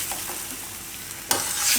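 Paneer bhaaji cooking on a full gas flame, a continuous sizzle with a spoon stirring through it and a louder scrape and hiss of movement near the end.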